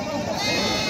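A goat bleats at a crowded goat market in Takhatpur near Bilaspur, one short, loud, wavering cry close by with crowd noise around it.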